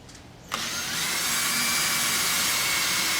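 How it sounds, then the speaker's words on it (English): A power drill bores holes for the slats of a wooden quilt rack: a short quiet lead-in, then the motor whines up sharply and holds a steady, loud, close drone to the end. "Now Jan's drilling the holes for the slats."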